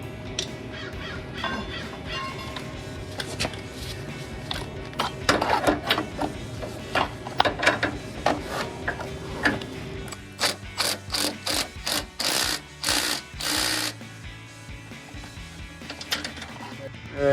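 A ratchet torques the upper control arm bolt on a Silverado 1500 with rapid clicking bursts, first irregular and mixed with clanks, then a series of crisp, evenly spaced ratcheting strokes close to the mic.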